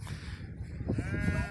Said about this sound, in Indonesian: ini domba-dombanya lucu